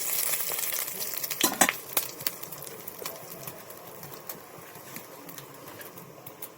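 Hand-torn curry leaves fry in oil with cumin, opening with sharp spits and crackles that settle into a quieter, sparse sizzle with scattered pops and faint stirring.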